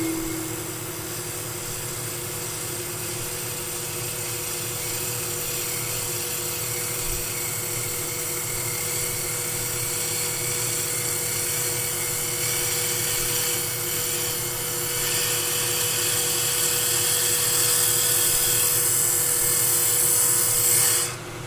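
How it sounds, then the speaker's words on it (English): A wood lathe spins steadily with a droning motor hum while a spindle roughing gouge makes a planing cut along the turning wood, a continuous close rasping whir that holds even and shifts slightly toward the end. "you just push the tool through the wood at the speed it's coming over, and that will give you a planing cut with a spindle roughing gouge"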